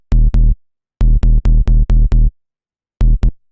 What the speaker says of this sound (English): Get an 808, add distortion, sounds like this.